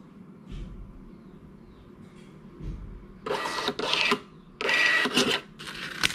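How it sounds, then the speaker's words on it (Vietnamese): A T80Q thermal receipt printer runs a test receipt, giving several bursts of buzzing, rasping print-feed noise, followed by the short mechanical snip of its auto-cutter; close and clear, with faint room noise between bursts and no talking. "cái máy in này sau khi in ra thì nó cắt giấy tự động luôn"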